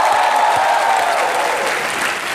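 A studio audience at a comedy show claps loudly for a singer, a dense, even roar of applause that tapers slightly toward the end.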